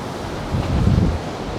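Strong wind buffets the microphone on Levante Beach in Benidorm as surf rolls in, a dense, continuous roar of gusts and breaking waves with a slight swell in the middle and no voices.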